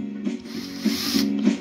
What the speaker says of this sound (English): I just so happen to have my trusty old Milwaukee drill here